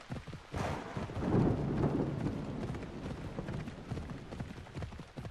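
Storm audio from the video game Assassin's Creed Odyssey: a heavy thunder rumble swells and fades under steady rain-like hiss, mixed with rhythmic horse hoofbeats clip-clopping throughout.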